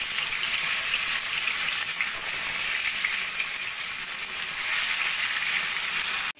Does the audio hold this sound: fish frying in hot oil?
yes